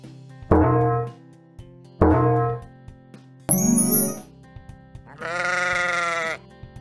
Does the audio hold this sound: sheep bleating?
yes